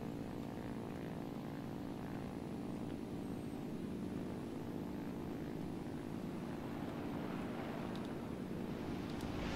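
Drone of a bomber aircraft's propeller engines in a flight simulator game, steady and continuous throughout, loud and unbroken with some rushing wind noise on top.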